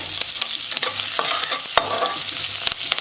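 Chopped green chilli, ginger and garlic sizzle in butter in a pan for a spinach stir-fry, with a steady fry hiss and scraping stirring strokes, including one sharper clack, up close and without talk.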